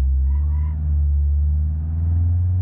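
A car in a video game approaching from a distance, a steady low engine drone and rumble with a faint honk-like tone early on, no talking.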